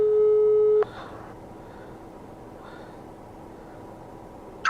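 A steady electronic telephone call tone sounds loudly for under a second and cuts off sharply, leaving a quiet, hissing line that ends in a brief click.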